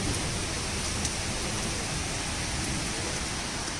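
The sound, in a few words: heavy rain with thunder outside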